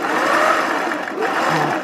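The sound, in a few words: sewing machine stitching side gussets of a dress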